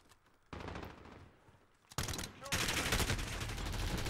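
Gunfire in the video game Modern Warfare, bursts of rapid shots growing louder and denser toward the end, heard near and alone.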